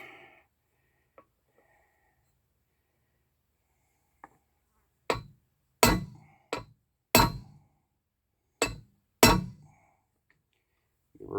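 Six sharp metallic hammer blows on a punch against a vehicle U-joint, striking in an uneven rhythm with short gaps, loud and close. Quiet stretches come before them, with a few faint clicks.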